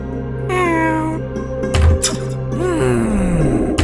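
An animated cat meows loudly and close in several drawn-out, wavering cries, some rising into a strained caterwaul, with no speech between them.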